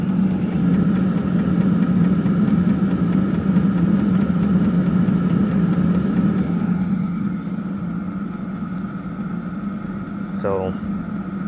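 Wippro diesel heater running after ignition, a steady close low hum with a broad whooshing fan and combustion tone that holds constant throughout, easing slightly in the second half, with a brief faint chirp near the end.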